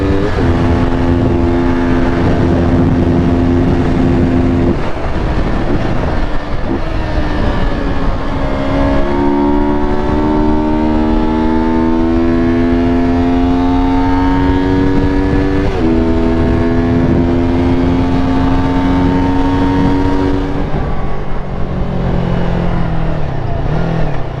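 A loud, close motorcycle engine drones steadily, its pitch climbing and dropping through several gear changes as it accelerates, with no talking.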